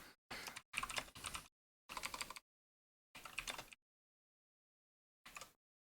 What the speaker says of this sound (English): we type in